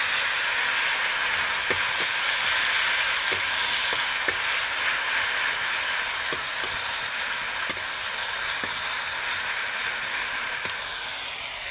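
Ginger, garlic and onion paste sizzles steadily in hot oil in a village-style kitchen, a continuous close frying hiss with faint scattered pops and no talking.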